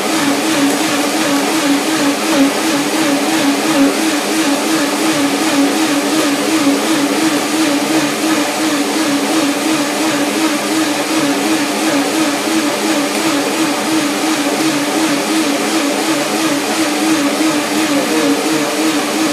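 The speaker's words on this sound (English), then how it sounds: "Let's start it, blender dance." A blender runs continuously at high speed blending a raw walnut pear cacao soup, its motor whirring loudly and evenly with no pauses.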